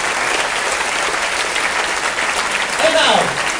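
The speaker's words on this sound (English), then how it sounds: "one more big applause for them, the officers of MSC Grandiosa" Loud, sustained applause from a large audience at the christening ceremony of the cruise ship MSC Grandiosa, honoring the ship's officers, with a brief swell of cheering near the end.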